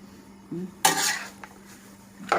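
Curry paste being stir-fried in a pan for a Thai khua kling dish, with a couple of sharp metallic scrapes and clanks of utensil against pan over a low steady hum.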